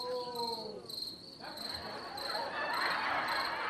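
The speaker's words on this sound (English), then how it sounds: "those crickets are faking me out" Crickets chirp in a steady high trill throughout, with a faint voice in the background during the first part.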